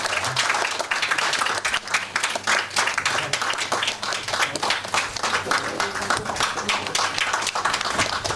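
A church congregation at a founding service and ordination at Sancheong Pyeongchon Church applauds: dense, steady clapping from a full room, lasting the whole stretch without spoken words.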